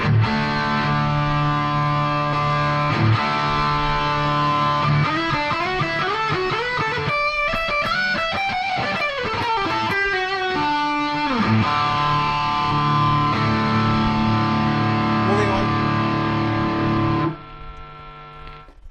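A sustained distorted electric guitar through a Boss GT-1000 multi-effects processor rings out, with chords and a bending, sliding melodic passage in the middle, then cuts off near the end.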